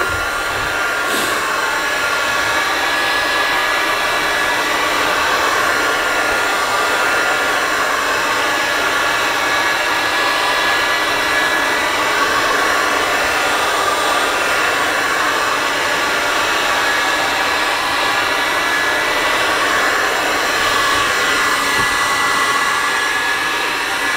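Steady loud blowing roar of a heat gun warming plywood during a boat restoration, continuous and unbroken for the whole span.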